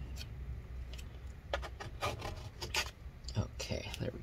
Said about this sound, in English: Let's go ahead and just scrape these all tiny bits out.